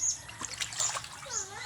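Water splashing and spattering at a renovation site where a post is being drilled, a short burst of bright wet splatter with some dribbling and a faint voice.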